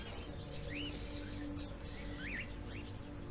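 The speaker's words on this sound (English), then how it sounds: "Birdies." Birds in the video game Indigo Prophecy (Fahrenheit) give a few short, rising chirps over a steady low background hum.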